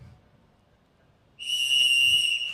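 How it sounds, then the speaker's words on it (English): A referee's whistle starts a competitive Nerf flag dash round at a tournament: a sharp, loud, sustained blast of about a second, coming in after quiet crowd murmur. "ready for the whistle"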